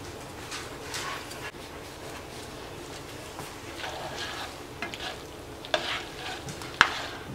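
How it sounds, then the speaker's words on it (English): Butter melts in a pan for mac and cheese with ham, a faint, soft sizzle with occasional light stirring scrapes and a couple of sharper clicks near the end. "I've got the butter melted"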